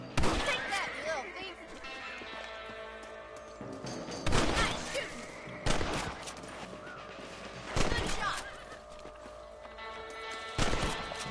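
Rifle gunshots in Red Dead Redemption, four or five sharp, loud cracks spaced a couple of seconds apart, each with a ringing tail, over ambient game noise and hoofbeats.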